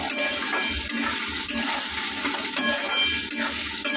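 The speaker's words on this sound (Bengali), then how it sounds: "এবার ভালো করে কিন্তু এটা নাড়াচাড়া করে নেব।" Chilli chicken with turmeric, cumin and garam masala stirred in a pan, the spoon scraping in uneven rhythmic strokes over a steady sizzle, close and fairly loud.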